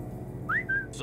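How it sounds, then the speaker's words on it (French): A character in the stealth video game Alekhine's Gun whistles two short rising notes over a low, steady in-game ambient hum, faint and with no talking. "On peut siffler."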